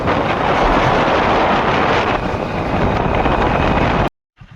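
Cold wind blows across Talda bridge in a village setting, a loud, steady roar buffeting the microphone for about four seconds before cutting off abruptly to near silence.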